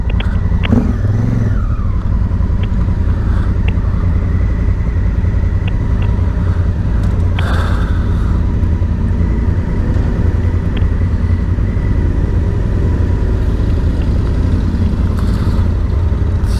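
Motorcycles ride past on the road, a continuous loud engine rumble with brief revving swells near the start and middle, the passing bikers' engines blending into steady road noise with no talk.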